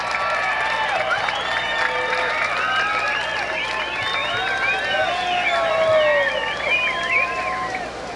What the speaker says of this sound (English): Let's hear it for Tom Carroll, ladies and gentlemen